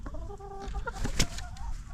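Backyard hens in rural central Portugal cluck and murmur close by, making short, rising, pitched calls in a busy, overlapping run with a few sharper notes.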